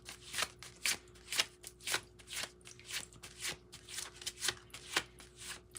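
Soft, close riffling and slapping of oracle cards being shuffled during a tarot reading, coming in repeated quick bursts with brief pauses between them.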